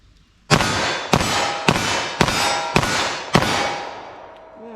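Six loud, sharp gunshots from a .40 Smith & Wesson handgun, fired outdoors at an even pace of roughly one every half second, each crack ringing out briefly.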